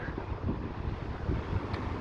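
Strong wind on the Blackpool seafront buffets the microphone, a constant low rumble with gusty bursts and no voices.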